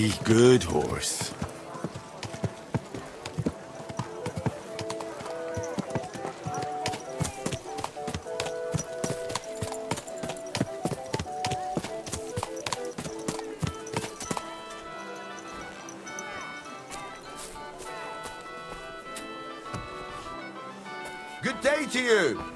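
Horse hooves in Kingdom Come: Deliverance II clip-clop in a steady walking rhythm for over twenty seconds, crisp and close, with a brief whinny at the start and end.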